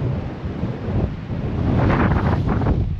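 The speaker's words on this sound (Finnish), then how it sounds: "ihan napakasti tuulee" Strong storm wind gusts roar steadily across the microphone, loud and continuous, with a broad rushing noise that swells slightly toward the end.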